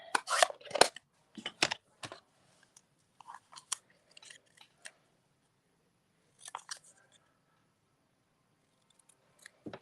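Cardstock for a stamped card is trimmed with a few crisp, close snipping and slicing sounds in short bursts, separated by quiet pauses and light handling clicks.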